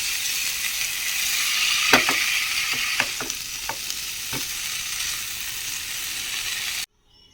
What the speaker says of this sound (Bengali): এখন আমি এটা ভালো করে কষিয়ে নেব